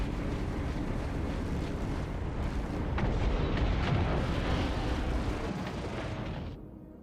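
Ship weapons fire at the player in Star Citizen, producing heavy booming blasts and a rumbling, wind-like roar that stays loud and sustained before thinning out at the end.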